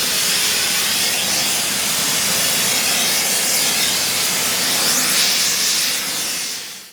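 Stick welding on preheated cast iron with a Tech-Rod 55 electrode at 92 amps, giving a loud, steady, dense crackling hiss that runs unbroken and then cuts off at the end.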